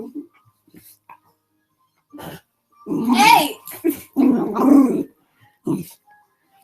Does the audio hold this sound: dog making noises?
yes